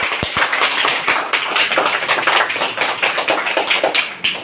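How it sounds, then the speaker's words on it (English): Schoolchildren in a classroom activity lesson clap for themselves, a burst of sharp, close, rhythmic claps that carries on steadily for several seconds with little talk. "Very good. Clap for yourself."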